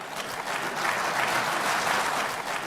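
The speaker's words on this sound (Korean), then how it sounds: "박수가 터져나오자" An audience breaks into dense, sustained applause after a speech by Duterte, with many hands clapping at once at an even, full level that continues throughout.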